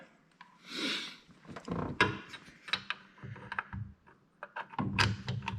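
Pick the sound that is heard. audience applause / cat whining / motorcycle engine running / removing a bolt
removing a bolt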